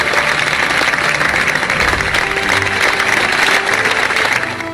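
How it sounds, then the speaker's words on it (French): A classroom group at an Olympic school session applauds a student, a loud, continuous wash of clapping hands close by with no break. "Il faut applaudir Mafoufal."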